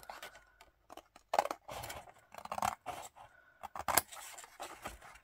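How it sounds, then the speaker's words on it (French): Scissors snip through paper while a small pouch is being made, a series of quick close cuts in irregular bursts with short pauses between them. "je vais venir couper toute cette partie-là"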